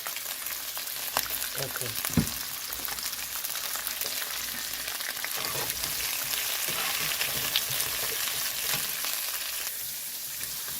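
Pepper with a pinch of salt frying in a pan, a soft continuous sizzle with occasional stirring clinks, quiet and close, with a brief spoken word over it.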